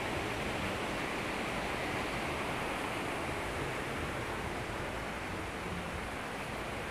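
Steady, full rush of crystal-clear flowing water at Tamazulapan del Progreso, Oaxaca, heard close and continuous on its own, with no voices over it.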